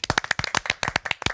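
A small studio audience at a panel show claps in a brief burst of distinct, close hand claps.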